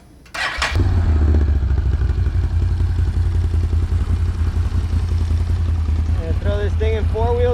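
A Can-Am Renegade XMR 1000R ATV in four-wheel drive revs and accelerates hard: a sharp start followed by a loud, sustained deep engine roar, close by, with a voice briefly audible near the end.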